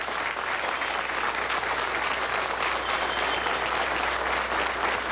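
A large crowd at an anniversary ceremony for Venezuela's scientific police and national police breaks into sustained applause, a thick, even roar of clapping that holds steady for several seconds with no speech over it.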